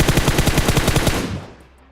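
A rapid burst of about a dozen gunshots from automatic fire in PUBG Mobile, loud and close, cutting off with a short fading echo.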